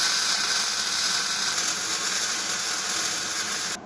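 Welding on a steel weld cart produces a steady, bright hissing crackle that runs continuously at close range, then cuts off abruptly at the end.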